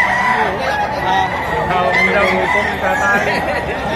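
A rooster crows loudly and close by at a poultry sale, a harsh drawn-out call over a dense backdrop of clucking fowl.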